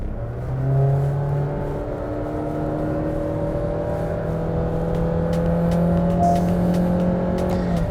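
A Honda Amaze with a CVT gearbox accelerates, its engine holding a steady, moaning drone at high revs that rises slightly in pitch. The sound stays loud and continuous, with faint rattles on top and no talking.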